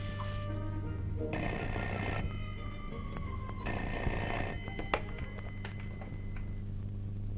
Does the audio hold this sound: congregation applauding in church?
no